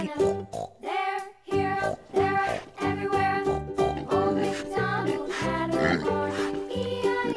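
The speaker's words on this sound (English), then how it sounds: "Pig." A pig oinks in a run of grunting calls over a steady musical background with chimes, loud and close, the grunts recurring in short bursts throughout.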